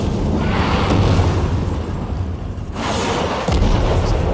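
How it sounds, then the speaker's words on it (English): Heavy orbital bombardment explosions rumble and boom in the video game Warframe, dense and loud with deep low-end blasts rolling into one another and a fresh impact near the end. "We're still being bombarded from orbit."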